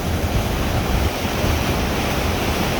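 The Arkansas River near flood stage at the North La Junta headgates, a loud, steady, broadband rush of fast water with no breaks.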